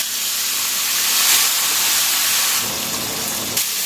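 A splash of water hits a hot tempering pan for dhokla and erupts into a loud, steady steaming hiss that holds for a few seconds, close and unaccompanied by voices.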